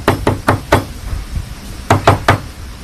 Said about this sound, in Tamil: யாரோ கதவை தட்டினாங்க.